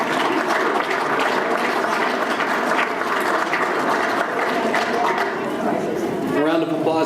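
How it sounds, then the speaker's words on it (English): Sustained applause from an audience at a Founders Day community event at a country club in Trophy Club, Texas, honoring first place winners; dense, steady clapping fills the room with voices and crowd noise mixed in. "A round of applause again, please, for our first place winners."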